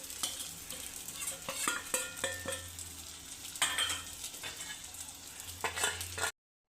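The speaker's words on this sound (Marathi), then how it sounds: "वांगी आपण छान अशी फ्राय करून घेतली आहे बघा, आणि छान अशी मऊसुद्धा व्हायला लागली वांगी बघा" Eggplant pieces fry in a pan, with a soft oily sizzle beneath repeated scraping and stirring strokes of a spatula or spoon against the metal, close and moderately quiet, with no voices.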